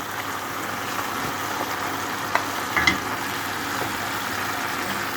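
Gentle, steady frying sizzle at moderate level with a few brief clinks of a utensil partway through; no one speaks.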